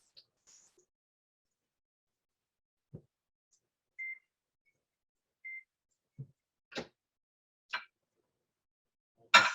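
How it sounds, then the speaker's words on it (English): A kitchen timer set for cooking radishes gives a few short, faint beeps amid a quiet kitchen, with scattered small clicks and knocks, no talk. "And I did hear my timer on those radishes."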